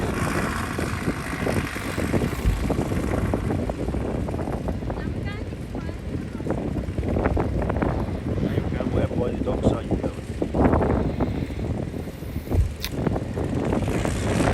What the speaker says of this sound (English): Apologies for the wind noise, but we're at the seaside,